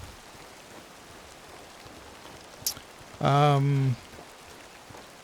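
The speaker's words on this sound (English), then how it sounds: "it's just hard to see anything when it's raining like this" Steady hiss of rain in the video game Way of the Hunter 2 across the whole stretch, with a brief louder burst of a tone partway through and a single word spoken.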